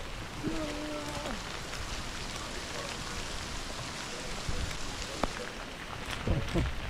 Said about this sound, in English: Rain's still coming down pretty good out here